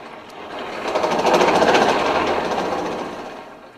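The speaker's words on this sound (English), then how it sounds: "I need the extra air at this stage to create a very hot fire around the bars." Blacksmith's forge blower driving air into a coal fire for forge welding bars, a steady mechanical whir and rattle that swells up, holds strong in the middle and then eases back down.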